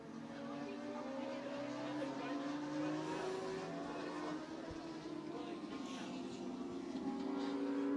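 Dwarf race cars running their main event at Twin State Speedway in Claremont, New Hampshire, a steady engine drone from the pack heard at a distance, with a race announcer's voice running over it.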